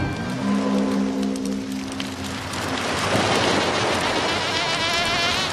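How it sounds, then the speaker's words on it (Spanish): Mosquitoes whine around a sleeper at night, a thin, wavering high-pitched buzz that is close at first and continues steadily over a soft rain-like hiss. "Dormir va a ser difícil con estos mosquitos."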